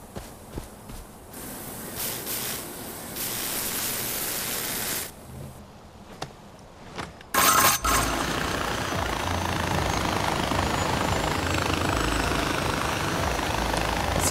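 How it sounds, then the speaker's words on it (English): A helicopter in the video game Far Cry 4 whirs steadily at moderate loudness, breaking off briefly in the middle and then returning as a sustained, noisy rotor drone. "My chopper's still here."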